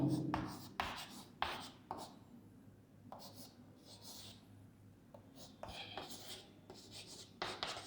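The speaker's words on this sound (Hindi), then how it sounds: "तो अभी बात समझो, मैं ऐसे लिख लेता हूँ" Marker or chalk scraping across a board during an algebra lesson, several bursts of scratchy strokes in quick succession, fairly close, with pauses between the strokes.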